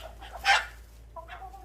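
Chickens squabble in a short burst while enforcing the pecking order, one loud squawking flurry followed by a softer cluck or call, close by with no talking.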